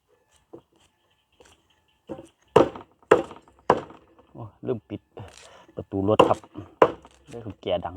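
Sharp knife chops strike a board in an irregular series as shallots are thinly sliced, some quick and close together, with quiet talking at moments between them.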